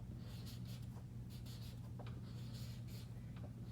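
Pencil or pen strokes on paper during handwriting practice, a steady run of soft scratchy strokes with short pauses, close and quiet over a low constant hum.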